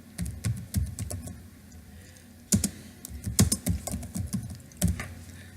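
Typing on a computer keyboard while entering text into a database list, bursts of close, crisp key clicks in uneven clusters with short pauses between them, no talking.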